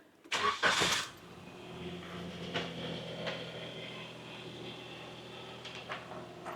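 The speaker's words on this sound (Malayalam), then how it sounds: "നമുക്ക് ഈ വാഹനം ഒന്ന് സ്റ്റാർട്ട് ചെയ്ത് നോക്കാം." A car engine cranks over and fires in a short loud burst after its throttle body has been cleaned, then settles into a steady idle in neutral.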